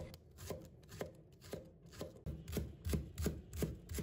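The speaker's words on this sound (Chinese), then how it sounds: "葱白和葱叶分开切，把葱白切成粒" A kitchen knife chops scallion whites into small pieces on a cutting board, giving steady, evenly spaced taps about twice a second. The taps are close and quiet, with no talking.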